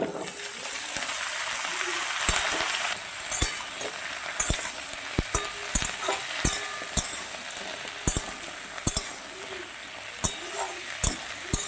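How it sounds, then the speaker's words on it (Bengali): Potatoes and spinach-stem vegetables for a Bengali chorchori sizzle steadily in a pan, a loud continuous fry with repeated sharp clinks and scrapes of a spatula stirring against the metal. "একটু ঢাকা দিয়ে ভালো করে ভেজে নেবো সবজিগুলো খুব ভালো মতো ভাজা হয়ে গেছে"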